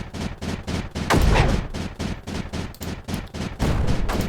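Cannons firing in the video game Creeper World 4, a rapid, loud rhythmic volley of booming shots, roughly five per second, with one heavier blast near the start, no talking.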